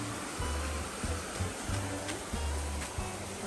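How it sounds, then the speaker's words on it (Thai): A flowing stream on a trip around Chiang Mai, Thailand, a continuous rushing water hiss heard close by, with soft low thuds and brief bumps from movement scattered through it. "มีลำธารด้วย"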